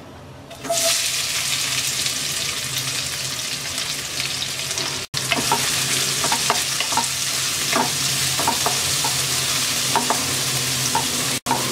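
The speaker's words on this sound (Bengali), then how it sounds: "পেঁয়াজটা হালকা ভেজে নেব।" Chopped onions frying in oil with bay leaves, cinnamon, cardamom and cloves for chicken pulao: a close, steady sizzle with scattered clicks and scrapes of stirring throughout, starting abruptly after a brief quiet moment.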